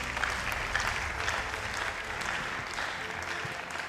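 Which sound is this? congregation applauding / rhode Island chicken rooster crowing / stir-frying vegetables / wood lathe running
congregation applauding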